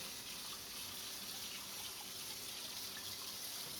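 Tap water runs steadily over a tie-dye shirt being rinsed in a sink, a continuous close splashing wash with no talk.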